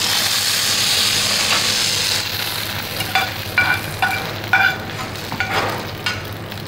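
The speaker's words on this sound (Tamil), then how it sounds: "அடுப்பை அணைச்சிட்டு உடனே சூடாகவே இதை ஊற்றிடணும்." Hot curry-leaf tempering poured from a pan over chutney with the stove off: a loud, steady hissing sizzle that fades into a quieter simmer, followed by a few light clinks and scrapes of a utensil.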